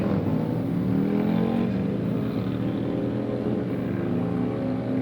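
Drag racing motorcycles, including a Harley Sportster, roar steadily at a strip with a dense, sustained engine drone. No clear rise in revs is evident.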